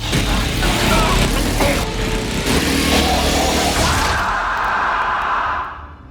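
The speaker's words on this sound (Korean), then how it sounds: "바로 살인 잔디깎기" A loud, rough motor drones steadily like a lawn mower engine, then cuts off abruptly near the end.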